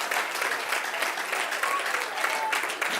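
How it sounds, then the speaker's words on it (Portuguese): Congregation applauding strongly in a church service, dense continuous clapping from many hands lasting throughout, fairly loud and steady with a few voices mixed in. "Se você crê, aplauda forte o nome do Senhor."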